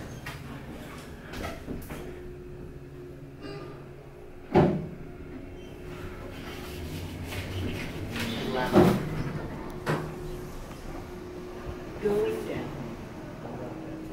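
Elevator doors inside a government plaza building in Albany slide shut with a rumbling whir and a thud, followed by further mechanical knocks, fairly close, while people talk throughout.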